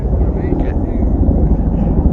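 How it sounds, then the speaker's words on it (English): Military Huey helicopters fly overhead above a nine-hole golf course, a loud, steady rotor and engine roar mixed with wind noise that holds throughout. "We got some military jets coming, or military helicopters."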